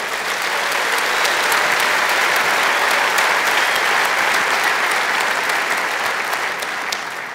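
A church congregation at a men's convention breaks into dense, sustained applause that holds steady and loud for the whole stretch, with no talking over it.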